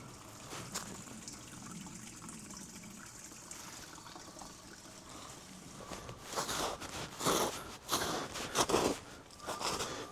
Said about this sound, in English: I can hear the sound of the water.